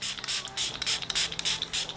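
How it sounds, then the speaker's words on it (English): Catrice Prime Fine Illuminating Setting Spray misted onto a face in a rapid series of short, crisp pumps, about a dozen hissing bursts close to the microphone. "This is their Prime Fine Illuminating Setting Spray."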